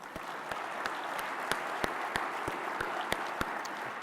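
An audience applauding at the ObesityWeek 2019 conference keynote, a steady wash of many hands clapping in a large hall, moderately distant, with sharper individual claps standing out.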